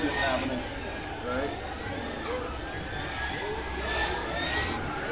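Traxxas Slash RC cars race around a track, their high whining motors buzzing steadily in the distance under a commentator's running talk.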